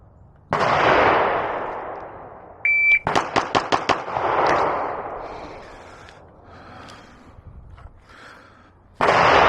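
Timer beep then a fast burst of about six sharp, loud gunshots from a Beretta 92 XI pistol at close range on a shooting range, with booming echoes and a few separate heavy reports before and after.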